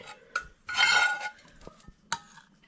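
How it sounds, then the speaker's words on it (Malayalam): Fried mustard seeds added into a coconut-roasted Kerala chicken curry: a short burst of sizzling spatter, with scattered clinks of a spoon against the pot before and after. "കറിക്കകത്തേക്ക് ചേർത്ത് കൊടുക്കുവാണ് കടുക് വറുത്തത്"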